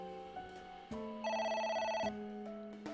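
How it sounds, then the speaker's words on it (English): A telephone rings steadily in the video game AI: The Somnium Files, with a bright electronic trill repeating in short bursts, loud and close, alone without any talk over it. "I don't want to hear the phone ringing."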